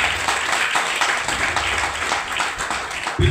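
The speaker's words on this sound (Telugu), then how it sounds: "గట్టి చప్పట్లు కొట్టండి" A church congregation at Sunday worship claps loudly together, a dense, sustained patter of many hands that holds steady for a few seconds before a sharper thump at the end.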